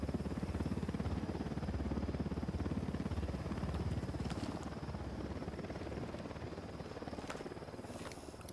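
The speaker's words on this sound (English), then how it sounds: "We got a chopper." A video-game helicopter approaches in a tactical shooter, its rotor thumping in a fast, steady chop with a heavy engine drone. It stays loud and close throughout, easing slightly toward the end.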